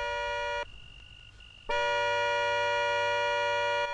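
A car horn blares in two loud sustained tonal blasts, a short one then a longer one lasting over two seconds, separated by a brief gap.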